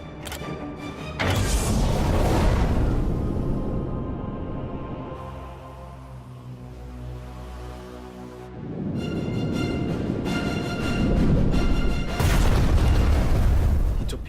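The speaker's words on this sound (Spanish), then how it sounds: "Le lanzó varios torpedos y al ser un petrolero, la explosión fue enorme." Deep, heavy booming rumbles of torpedoes striking an oil tanker swell and fade over several seconds, like large underwater explosions, loud and sustained with a quieter tonal lull in the middle.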